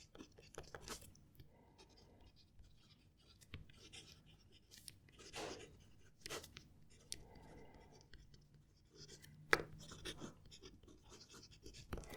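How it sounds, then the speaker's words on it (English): A fountain pen scratches softly across paper while writing a sentence, with faint, irregular strokes and small taps, close and quiet; the pen is a Pilot Custom 823 or a Pelikan M1000. "I'm going to write a sentence."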